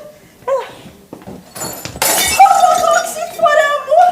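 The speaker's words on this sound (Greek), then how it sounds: "Έπεσε και έσπασε! Έγινε κομμάτια!" A Christmas tree star falls and shatters in a brief breaking-glass crash on a stage during a Christmas theatre play, with voices speaking before and after it.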